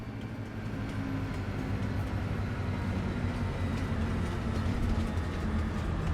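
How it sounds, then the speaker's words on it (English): A train arriving in Farming Simulator 22, a steady loud rumble and low engine drone that keeps rolling evenly across the whole stretch, with no talking. "Here it comes. Into view."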